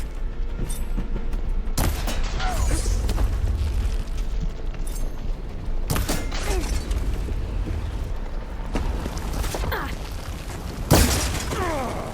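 Soldiers firing guns in the video game Horizon Forbidden West: several loud booming shots and bursts over a rumbling battle bed, with game voices calling out between them.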